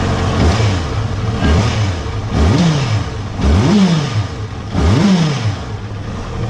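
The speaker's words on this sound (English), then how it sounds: "the exhaust note is really beautiful and very smooth" A Honda CBR 650F sport-touring motorcycle engine revs up repeatedly in close, loud bursts, with four rising-and-falling throttle sweeps whose smooth exhaust note climbs and drops over a steady idle.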